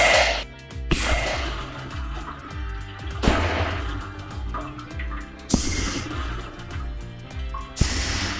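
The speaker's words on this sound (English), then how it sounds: "we're gonna go ahead and fire up the system" An AirSweep pneumatic flow aid system fires on a bin, giving four sharp, loud air blasts spaced about two seconds apart, each with a hissing decay, over a steady tonal background.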